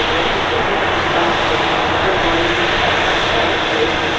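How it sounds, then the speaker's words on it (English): An Etihad airliner at Manchester Airport gives a steady, loud broadband jet roar that holds unchanged throughout with no breaks. "Lovely aircraft."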